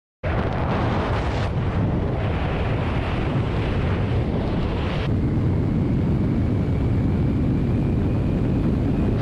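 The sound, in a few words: single propeller airplane flying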